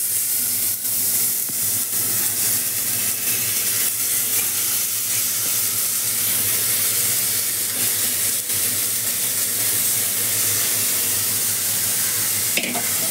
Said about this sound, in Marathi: तांदूळ आणि डाळ धुतले ते टाकते.